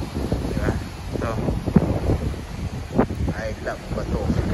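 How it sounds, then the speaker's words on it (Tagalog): Strong wind buffets the microphone by the sea on Polillo Island, a steady broadband roar with gusts and rustle, with faint talk in the background. "Masyadong mahangin nga lang."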